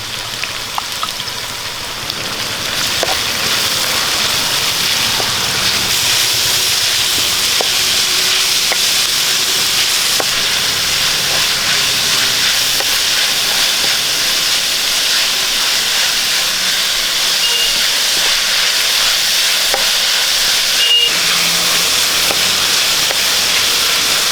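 Sliced onions and chopped green chillies sautéing in a pan for a chicken curry, a loud, steady sizzle and hiss with faint spatters and clinks, continuous throughout with no talking.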